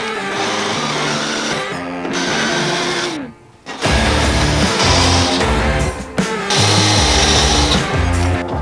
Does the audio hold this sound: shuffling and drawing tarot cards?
no